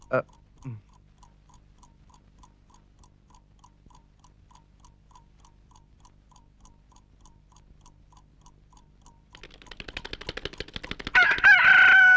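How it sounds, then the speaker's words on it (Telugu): An alarm clock steadily ticks in a quiet room after a brief thump, then goes off near the end with a loud, raspy recorded rooster crow. "అప్పుడు అలారం కూసింది"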